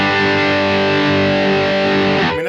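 Heavily distorted electric guitar rhythm tone from a Laney Ironheart amp plugin, a thick sustained chord ringing loud and dense for a couple of seconds before cutting off, no voices.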